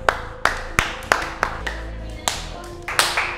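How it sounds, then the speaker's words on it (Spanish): A handful of separate, sharp hand claps come at an uneven, slowing rhythm during a relaxed Pilates session, close and fairly loud, with a low hum and a few bits of voice between them. "quizás un aplauso."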